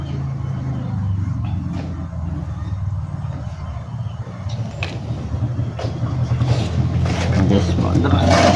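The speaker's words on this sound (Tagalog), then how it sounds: "At moment of truth, paandar natin." A repaired marine engine cranks and starts up, a low rumbling roar that builds steadily louder over several seconds, with someone talking over the noise.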